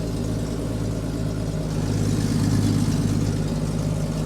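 A 1997 automatic vehicle at a salvage auction yard idles just after starting, a steady, close engine drone with a low rumble that swells slightly midway and holds even.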